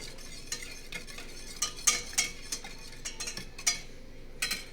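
Barbecue spice being mixed into bacon mac and cheese in a pot: a spoon scrapes and taps the pan in irregular clinks over a faint, quiet sizzle.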